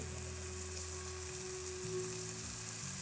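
Sweet potato fries pan frying in olive oil, a steady close sizzle that holds even for a few seconds with a faint low hum underneath.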